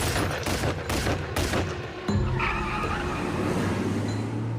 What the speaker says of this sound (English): As it got closer to the BMW, the arm came out and the gun just started firing.